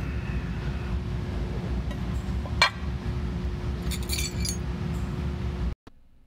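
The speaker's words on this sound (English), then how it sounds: "notice that the annealed glass breaks easily" A pane of annealed glass shatters under a falling 18.5-pound paper roll: a sharp crack followed by scattered tinkling of shards over steady low background rumble, ending abruptly.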